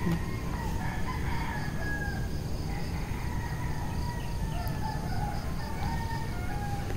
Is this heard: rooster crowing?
yes